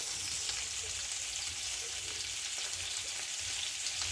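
Tomatoes fry in a pan with a dense, even sizzle and crackle, heard close and continuously without speech.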